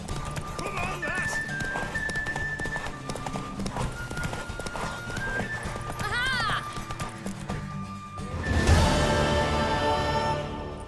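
A horse gallops with rapid clip-clop hoofbeats in The Witcher 3 video game, whinnying once midway, with game music and a voice behind it before a louder burst near the end.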